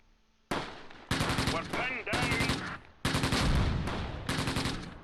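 Bursts of machine-gun and rifle fire from the World War II game Close Combat Gateway to Caen come in rapid repeated volleys with short pauses between, loud and close.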